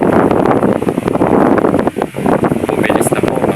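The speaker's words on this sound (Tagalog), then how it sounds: "Bumilis na po ang kanyang pag-ikot ng hélice. At nagbibigay na siya ng magandang hangin." An Astron electric stand fan turned up to speed 3 spins faster, its blades giving a loud, steady rushing whoosh of air close to the microphone, with someone speaking over it.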